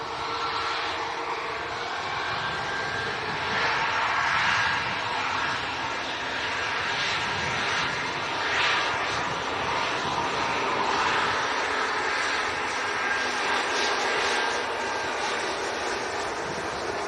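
A Ryanair passenger jet bound for Paris at Leeds Bradford Airport gives a steady, broad engine roar at moderate distance, holding fairly even throughout with no talk.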